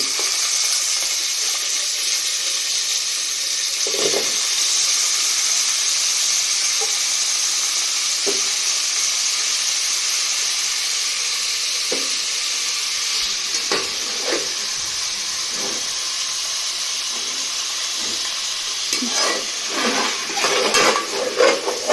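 Medium-cut potatoes fry in spiced masala for khichdi, a steady sizzle with occasional spoon scrapes and clinks against the pan, growing busier near the end, no talking.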